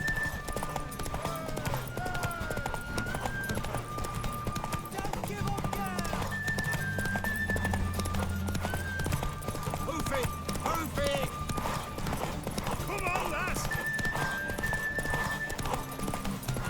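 Rapid clip-clop of hooves pounding in a steady galloping rhythm in The Witcher 3: Wild Hunt, with an occasional whinny, under music and voices, fairly quiet overall.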